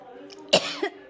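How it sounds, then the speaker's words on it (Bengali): A woman coughs twice in quick succession, close and fairly loud, in a quiet indoor space. "কাশি লাগছে পুরো"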